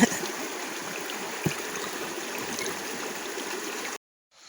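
A backpacking water filter trickles water steadily into a bottle on the Amanda Trail near Yachats, Oregon, giving a soft, continuous dribbling with a small clink before cutting to silence near the end.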